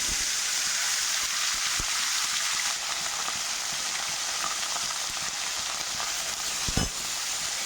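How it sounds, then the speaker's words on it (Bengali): Bhola fish sizzling in hot oil in a pan, a steady loud crackling hiss that fills the clip with a couple of brief clinks, no talking. "তেল গরম হয়ে গেছে, এখন মাছ ছেড়ে দেবো।"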